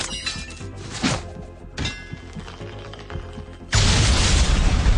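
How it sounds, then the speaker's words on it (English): A fragmentation grenade goes off as a sound effect in a tabletop role-playing game: a sudden, loud, close blast that comes after quieter clinks and thuds, with no talking. "throws a fragmentation grenade"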